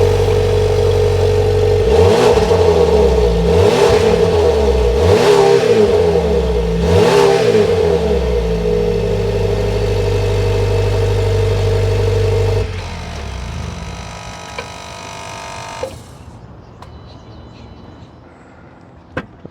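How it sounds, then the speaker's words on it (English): A 2026 Volvo XC60 T8 plug-in hybrid's exhaust revs loudly four times in a row over a steady idle, then the engine settles to a quieter idle. "let's take a listen of this T8 plug-in hybrid exhaust"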